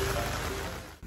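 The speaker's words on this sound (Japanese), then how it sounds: "ごめんよ、こんな雨降ると思わなかったんだよ。" Heavy rain falling steadily, a dense close hiss that briefly cuts off near the end.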